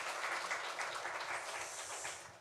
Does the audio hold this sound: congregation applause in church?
yes